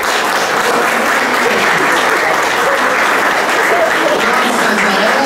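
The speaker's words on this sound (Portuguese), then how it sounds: "vamos dar uma salva de palmas para a Ana Luísa." Dense, sustained applause from a congregation at the closing Mass of a parish feast, steady and loud with no break from start to finish.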